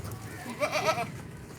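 A single large white goat bleats loudly and close by, a wavering cry lasting under a second amid faint background noise.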